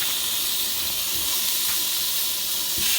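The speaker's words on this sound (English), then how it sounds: "let's listen for that sizzle" Constant bright hissing and sizzling of burger sliders searing on a Ninja Foodi indoor electric grill, steady throughout with faint clicks underneath and no talking.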